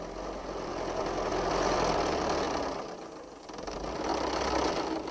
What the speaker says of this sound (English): while Farmer Stubble took a turn in the tractor